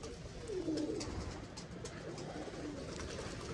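Pigeons coo softly in a low, rolling murmur from a loft of kept birds, with continuous background rustle and no voices.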